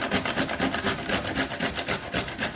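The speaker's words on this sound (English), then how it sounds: "the most time-consuming part of cooking will be grating pumpkin" Pumpkin grated by hand for sweet pumpkin pancakes, giving close, steady rhythmic rasping strokes, about four or five per second, with no voices.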